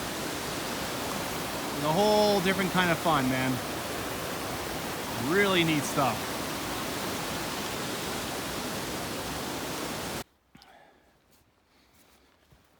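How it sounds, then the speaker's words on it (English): A river flows beside a hiking trail in Jasper National Park as a steady, loud rush of water. Someone talks over it in two short bursts before the sound cuts off near the end. "hiking along a cool river, you know, where you actually can go see the river"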